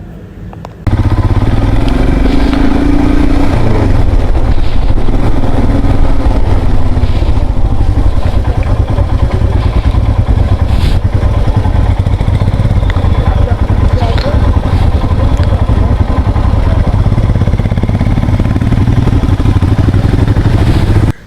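Motorcycle engine droning steadily at close range while riding along a road toward Sikkim near Darjeeling, with wind and rattling clatter throughout and no talk.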